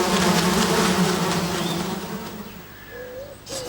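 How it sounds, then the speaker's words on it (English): Buzzing swarm of cartoon wasps, loud and thick at first then thinning and fading, with a few whistling tones near the end. "Sad Sack groaned as more and more wasps arrived"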